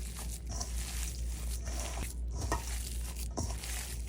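Ground burger meat seasoned with MSG is worked by hand in a bowl, making continuous soft squishing and slapping over a low steady background hum, with no voices.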